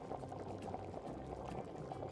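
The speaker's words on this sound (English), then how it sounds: "I have a pot of water boiling over here" A pot of water boils on a stove flame, ready for blanching broccoli florets. The bubbling is faint and steady, with soft irregular pops.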